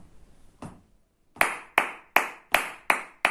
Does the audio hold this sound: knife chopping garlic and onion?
no